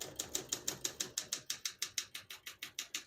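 Typing on a 1967 Olympia SM9 vintage portable typewriter: about sixteen crisp, evenly spaced key strikes in a steady rhythm, close and clear with no talk.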